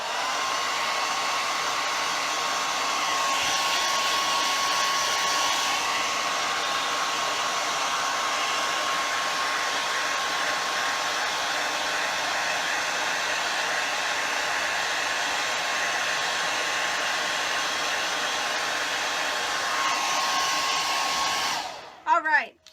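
A hair dryer blows with a steady, loud whooshing hum that runs continuously for a long stretch, then cuts off abruptly near the end.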